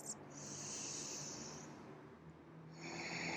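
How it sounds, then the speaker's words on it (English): Slow, deep yoga breaths during a shoulder and neck release practice, soft and close, with a long airy exhale followed by the start of another breath. "Nice, deep, nourishing breaths."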